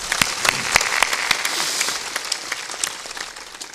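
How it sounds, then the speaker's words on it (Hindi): Audience at a religious discourse gathering clapping loudly, with sharp individual claps standing out in an uneven rhythm over a thinner background of hands, tapering slightly toward the end. "कम से कम उसके लिए तालियां जोर से बजाना पड़ेगा।"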